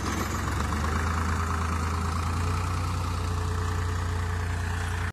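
A tractor engine idles steadily and close by, a continuous low mechanical rumble with no talking.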